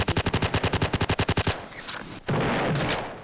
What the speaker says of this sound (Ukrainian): О, його пулемет.